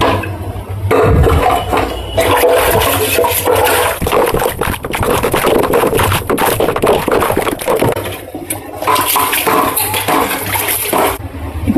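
Warm water runs and splashes inside a kitchen grinder jar during washing up after making homemade ghee, a loud close gush with clinks of the jar and shifting flow, briefly easing before surging again.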